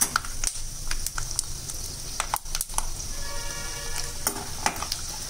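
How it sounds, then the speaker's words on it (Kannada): Peanuts frying in hot oil, a busy crackling sizzle with sharp pops and spatula scrapes against the pan, close and steady; no talking. "ಚಟಪಟ ಚಟಪಟ ಅಂತ ಸೌಂಡ್ ಬರ್ತಿರ್ತದೆ ಫ್ರೆಂಡ್ಸ್"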